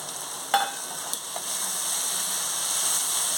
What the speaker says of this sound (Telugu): ఒక్క రెండు నిమిషాలు వేయించుకుందాం